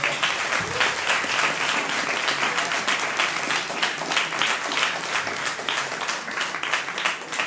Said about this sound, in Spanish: un aplauso para Miguel, por favor.